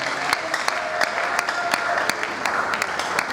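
Congregation clapping in a church service, a dense, steady wash of hands with sharper individual claps standing out, loud and continuous throughout.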